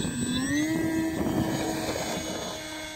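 Sky Hunter FPV model airplane flying overhead, a steady whining motor drone with a rising pitch that holds level, fairly loud and continuous with no talk.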